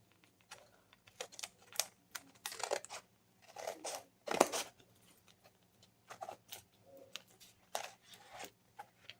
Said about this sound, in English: Start with the corner and just follow the vellum paper and cut it out.